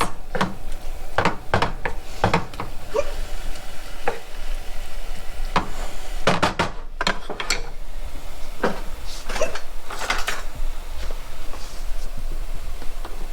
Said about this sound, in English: So we're gonna fry this up, and I'm gonna add butter to this.